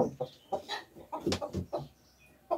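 Hens cluck in a farmyard in short bursts, a run of close, moderately loud calls with brief pauses between them, and no talk alongside.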